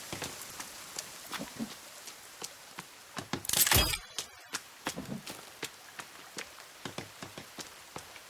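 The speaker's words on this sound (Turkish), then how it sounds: "Yağmurda başladı." Rain in the video game The Forest: scattered drips and patters fall irregularly, with a brief louder burst of splashing in the middle; fairly quiet and without talk.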